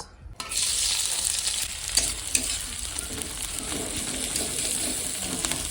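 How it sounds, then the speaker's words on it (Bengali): Hot oil sizzles loudly in a kadai as chowmein cooking begins, a steady bright crackling hiss that starts abruptly and continues close up, with occasional utensil clinks and stirring scrapes. "এখন এই তেল দিয়ে দিচ্ছি কড়াইয়ের মধ্যে"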